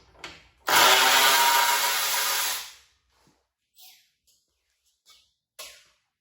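A short loud burst from a power tool, lasting about two seconds, while the carburetor and fuel tank come off a Briggs engine on a Craftsman pressure washer, followed by a few faint clicks and handling noises.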